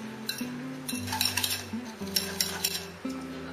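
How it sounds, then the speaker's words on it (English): Butter and sugar being whisked in a bowl for a black forest cake, quick metallic clinks and scrapes of the whisk against the bowl, close and moderately loud over faint background music. "Now we are going to whisk this until it is light and fluffy."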